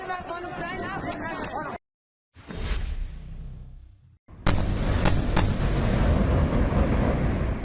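A deep, booming blast in Gaza after a short silence, followed by a long rumbling roar; speech is heard at the start.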